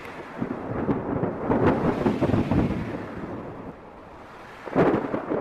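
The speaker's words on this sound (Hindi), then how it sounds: "उनके लिए यह पहली बारिश थी जो उन्हें किसी अजूबे से कम नहीं लग रही थी।" Steady rain with rolling thunder in a jungle storm, a continuous wash of noise swelling and easing, with a louder thunder crack near the end; no voices.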